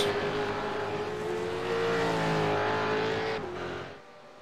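A race car drives through a chicane at the ANZAC 6 Hour Race, its engine holding a steady, loud tone that rises and shifts slightly with the throttle before fading away at the end.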